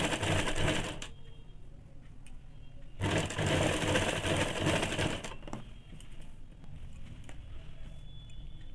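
A sewing machine runs in two loud bursts of stitching while sewing a ladies' scarf (muffler), with quieter handling and brief pauses between the runs.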